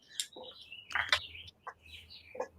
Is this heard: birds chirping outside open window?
yes